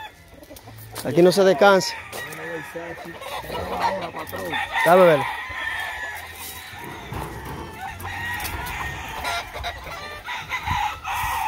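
Roosters at a fighting-cock yard crow loudly and close by in two drawn-out calls, with scattered clucking and other fowl around them, while someone talks over and between the calls.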